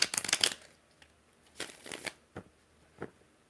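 Close, crisp tarot card shuffling: a fast riffle at the start, then several shorter shuffles and taps spaced apart.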